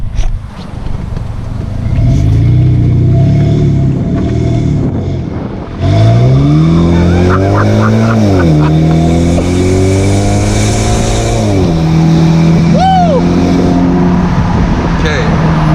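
A BMW 1 Series E88 turning around on a road, its engine revving up through several rising and falling gear pulls, loud and close, with a voice speaking over it at the start.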